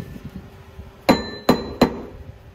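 Three sharp metallic hammer strikes ring out on a car's front wheel hub bearing, a Mazda RX8, spaced about half a second apart over faint background noise, each with a brief bright ringing decay.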